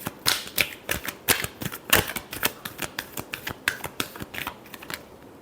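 Tarot cards riffle and slap together in a quick run of crisp, close, dry shuffling bursts that fade out near the end, with no talking.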